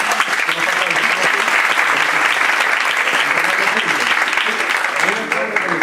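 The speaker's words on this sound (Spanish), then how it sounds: "Yo les pido un aplauso para mi amigo, Rodrigo Venegas, Rodrigo." An audience at a book presentation breaks into steady, loud applause, a dense wash of clapping that holds throughout and eases slightly at the very end.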